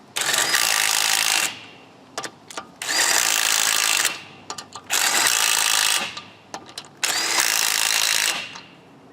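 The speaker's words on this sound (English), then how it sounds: "Alright, so I'm going to impact these down" Ryobi One+ 18V cordless 1/2-inch impact driver tightening car lug nuts, firing in four loud close rattling bursts of about a second each, separated by short pauses and brief clicks.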